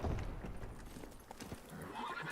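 In The Witcher 3, the horse Roach gives a whinny near the start, followed by soft clip-clopping hooves over a low game ambience.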